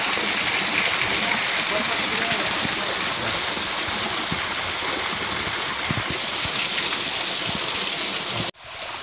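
Waterfall and stream of Sungai Bungo in the Sumatran rainforest, Rokan Hulu, a loud continuous rush of falling water that fills the air and cuts off abruptly near the end.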